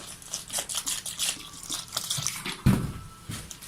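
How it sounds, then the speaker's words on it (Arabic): Water is poured into a bowl of flour and spices for fried chicken batter, a soft trickling splash with a sharper pour near the end, close and fairly quiet. "وهنبدأ نضيف مية"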